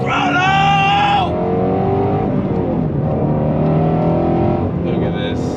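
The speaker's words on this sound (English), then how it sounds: "God, the sound of that V8." A 2020 Shelby GT350R's V8 engine pulls hard on throttle, its loud rising revs climbing then settling and surging again, close and steady throughout.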